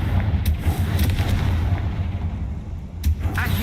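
Blasting spell in the video game Hogwarts Legacy, several loud, booming explosive bursts over a rumbling low background, spaced irregularly through the fight.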